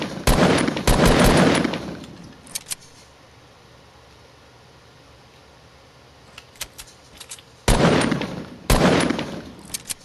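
An assault rifle fires in long, loud automatic bursts in a video game, two sustained strings at the start and two more near the end, separated by a quieter stretch with a few scattered single shots.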